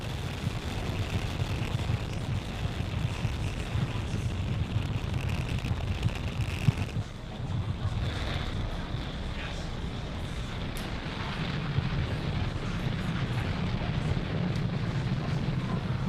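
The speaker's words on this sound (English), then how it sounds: "Falcon 9 has successfully lifted off from Space Launch Complex 40, carrying our 53 Starlink satellites" Falcon 9 rocket lifting off from Space Launch Complex 40 carrying 53 Starlink satellites, a distant, fairly faint continuous low rumble and roar with wind buffeting the microphone.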